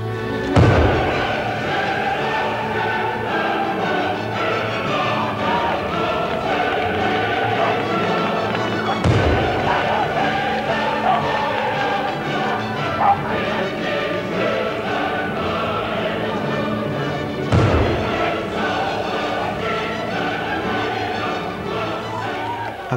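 Large explosive detonations watched from the safety of a garden, heard as several heavy booming blasts spaced roughly nine seconds apart, each followed by a loud, sustained roar and rumble.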